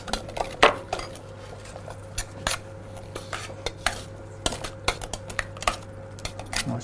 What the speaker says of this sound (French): On touille. Faut bien mélanger.